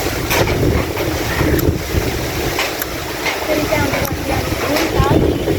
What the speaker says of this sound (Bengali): এই যে বাতাস শুরু হয়ে গেছে, পুরা দমে বাতাস শুরু হয়ে গেছে।